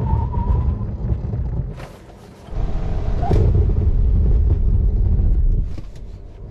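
A stock Tesla Model 3 Performance in track mode runs at speed on a dry track, with a steady low road-and-wind rumble heard from inside the car, a brief dip, then sustained loud rolling noise.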